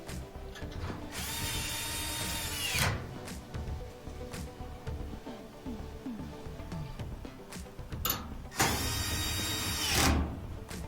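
A power drill drives screws back into a GE washer during repair, with two loud bursts of whining motor a few seconds apart, close up, separated by quieter clicks and handling noises.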